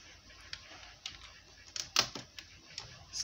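Keys tapped on a computer keyboard in a short, irregular run of soft clicks, with one sharper press near the middle, close and quiet with no talking.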